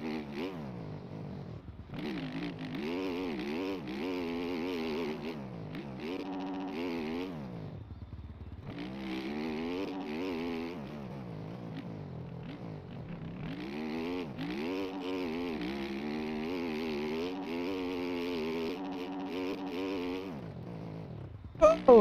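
Two-stroke motorcycle engines race in a video game, a continuous buzzing drone that rises and falls with revving and gear changes, broken by brief lulls and ending in a sharp clatter.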